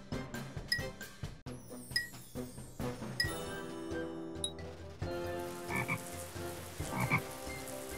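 Cartoonish frogs croak repeatedly in a Shrek funfair water-game on PS2, with quick springy croaks and rising whistle-like tones over bright arcade music, ending in a busier burst of bubbling effects.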